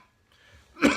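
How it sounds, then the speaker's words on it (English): A single close cough bursts out near the end of a quiet stretch, sharp and loud after faint room tone, from a man who still has a lingering cough. "still have a bit of a cough"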